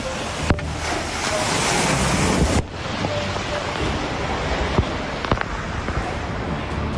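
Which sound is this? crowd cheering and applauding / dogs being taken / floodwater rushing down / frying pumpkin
floodwater rushing down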